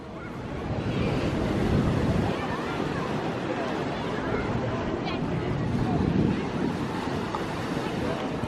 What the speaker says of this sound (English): Now waves from up here.